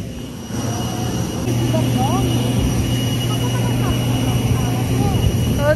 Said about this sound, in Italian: Questo è l'aereo.